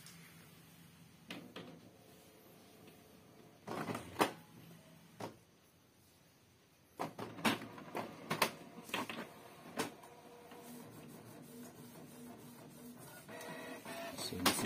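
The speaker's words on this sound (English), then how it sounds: "we will command the second grading sheet to be printed" Office printer printing a student report card grading sheet: mechanical whirs, clunks and feed clatter come in bursts, with quiet gaps between them, then a longer steady run near the end, close and moderately loud with no talk.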